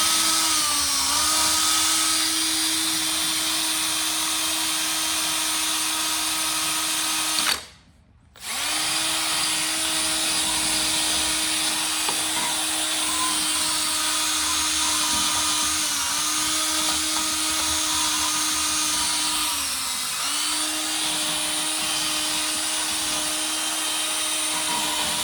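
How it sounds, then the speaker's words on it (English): A power drill fitted with a wire brush cleans rust off a rebuilt cylinder head, whining steadily and loudly for a long stretch with one brief pause partway through. "We'll just clean those off with the wire brush and this thing's going to be good."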